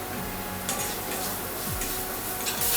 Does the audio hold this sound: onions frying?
yes